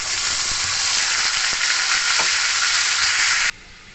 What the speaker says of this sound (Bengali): তেলের থেকে মিষ্টি গন্ধ বেরোলে মশলা বেটে রেখেছিলাম, এই মশলাটা দিয়ে দেবো